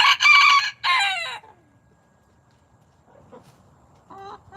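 A rooster in a chicken coop gives a loud, close crow in two bursts, followed by quiet and then faint clucking and a short distant call.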